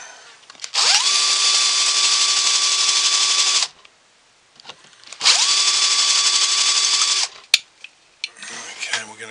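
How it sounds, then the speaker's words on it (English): A power drill bores into a steel lock hasp clamped in a vise, two sustained high whining runs of about three seconds each, close and loud, separated by a pause, followed by small clicks and handling noises. "We're going to stick it into the vise"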